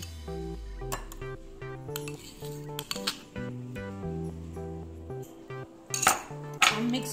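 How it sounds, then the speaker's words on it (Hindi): A spoon stirs and mixes pineapple tikka in a bowl, giving repeated clinks and scrapes against the dish in an uneven rhythm, close and fairly clear, with no talking. "मिक्स कर देंगे अच्छे से मिक्स कर लीजिए इसको।"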